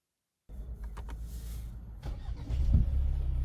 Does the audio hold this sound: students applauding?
no